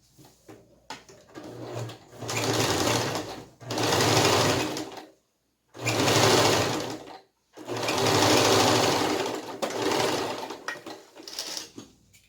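Sewing machine running topstitching along the upper edge of pressed fabric for a stuffed Tilda cow toy's clothes, in four loud steady bursts separated by short pauses, close and alone with no talk.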